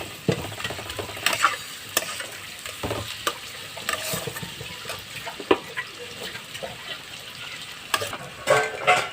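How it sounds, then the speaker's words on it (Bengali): Onions frying in a pan for a spicy bhola fish curry, a soft continuous sizzle broken by scattered scraping and clinking from stirring, with no talk. "পেঁয়াজটা ভাজা ভাজা করে নিয়েছি বন্ধুরা"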